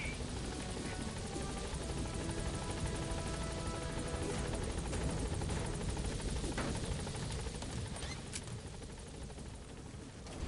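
The Pequod helicopter in the Metal Gear Solid video game, its rotor beating in a loud, steady, close drone throughout with no speech over it.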